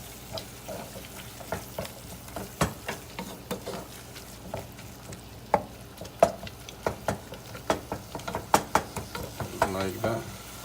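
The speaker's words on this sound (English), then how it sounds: "And keep stirring it, like don't stop." Bishmele being stirred in a cooking pan: irregular scraping and clicking strokes of a utensil over a low sizzle, growing busier and denser toward the end.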